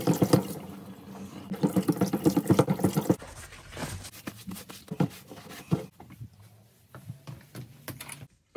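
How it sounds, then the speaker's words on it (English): Hand pump at a workshop sink drawing water for a quick wash, with rhythmic bursts of splashing and pumping early on, then softer intermittent trickles and small knocks. "This sink really comes in handy. I never use it for drinking water, so it's just a pump"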